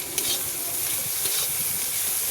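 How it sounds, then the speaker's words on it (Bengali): Onion, green chili, ginger and garlic frying in hot oil, a dense continuous sizzle with crackling hiss, close and steady throughout. "এটা একটু ভেজে নেবো"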